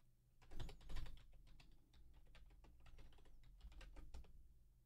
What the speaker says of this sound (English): From here, I'll type terraform version.